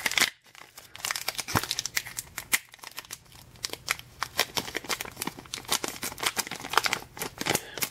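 A Pokémon Base Set 2 booster pack wrapper crinkles and tears as it is peeled open, close and busy, with sharp plastic crackles and rips in irregular bursts.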